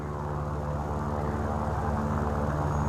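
Steady, loud droning of a Spitfire's piston aircraft engine in the War Thunder video game, a continuous propeller roar with no talk over it.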